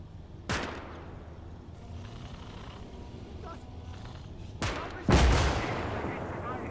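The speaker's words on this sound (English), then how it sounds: "I heard a shot from the Stug" A WWII StuG assault gun fires in a Gates of Hell Ostfront battle at Fastov. Heavy cannon booms stand out from a low, rumbling battlefield background: one shot early, then two more close together, the last loudest, with a voice faintly present.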